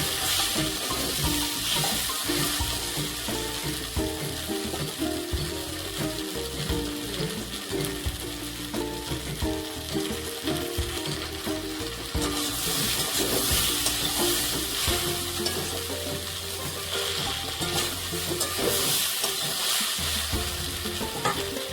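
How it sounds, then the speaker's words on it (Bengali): Okra (bhindi) frying in a pan, a continuous loud sizzle with constant stirring scrapes and clatter of the utensil throughout, close up with no talk. "এই সময় ভেন্ডিগুলো দিয়ে দেব। আবার একটু নাড়িয়ে চাড়িয়ে নেব।"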